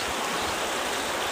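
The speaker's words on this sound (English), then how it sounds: "The river here is just brimming. It is filled all the way to the top." A river filled right to the top of its banks rushes past a campsite, a dense, steady, close roar of flowing water with no voices.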